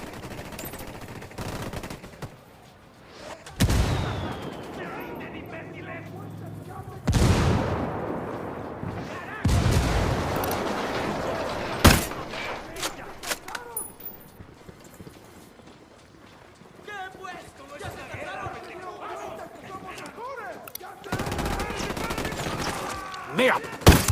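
Bursts of automatic gunfire and heavy explosions in a Ghost Recon Wildlands firefight, loud and intermittent with sharp blasts and rattling volleys, under tense in-game shouting and voice chatter.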